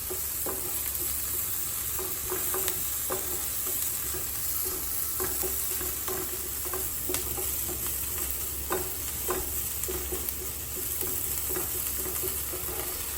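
Crushed garlic and ginger fry in a pan with a steady hot sizzle, punctuated by scattered crackles and the clink of a stirring spoon, continuous and close with no talking.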